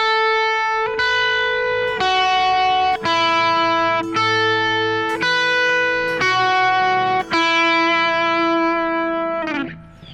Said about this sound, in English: Legato essentially means when the notes merge into each other.